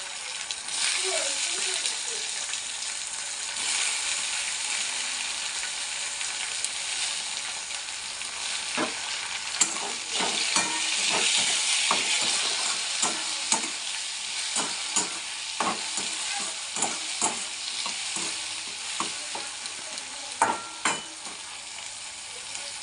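Tomatoes fry in hot oil in a pan, giving a continuous hiss with repeated scraping stirs and occasional louder knocks of the spoon.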